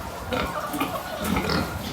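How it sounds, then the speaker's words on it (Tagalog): Fattening pigs of about 110 to 130 kilos grunt and oink close by in a farm pen, in short overlapping bursts over a couple of seconds. "Itong mga baboy po namin dito, Pangbenta na po yan itong February na katapusan na."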